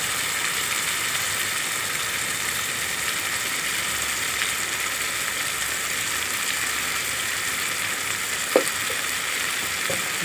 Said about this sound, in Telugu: పచ్చిమిరగాయలు ఉల్లిపాయలు టమాటాలు వంకాయ ముక్కలు బాగా నూనెలో మగ్గిపోయింది కదండి